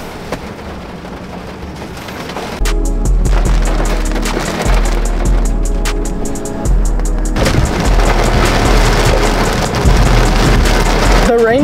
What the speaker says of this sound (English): The rain is so intense, it sounds like my windows are open.